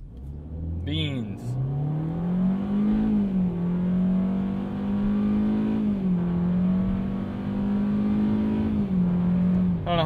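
A 2020 Hyundai Venue SEL accelerating hard from a standstill to 60 mph: a loud, sustained engine drone climbs in pitch, then steps back as gears shift, with a brief voice at the start.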